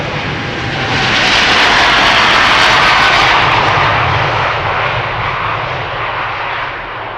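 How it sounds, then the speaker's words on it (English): A KLM Boeing 787-9 Dreamliner jet bound for Cancun takes off at Amsterdam Schiphol Airport, a loud, broad engine roar that swells quickly and then holds steady, slowly fading as the aircraft climbs away. "This is the 7879 Dreamliner to Cancun from"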